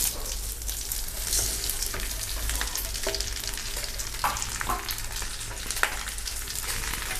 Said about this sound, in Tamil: இந்த வெங்காயத்து கூடயே எல்லாத்தையும் போட்டு வணக்கி திருப்பி ஒருக்கா வணக்கி நல்லா வணக்கி விட்டுருவோனுங்க